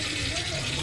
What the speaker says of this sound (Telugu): ముందైతే ఒక గిన్నెలోకి ఇలా వాటర్ పట్టేసుకుందాము.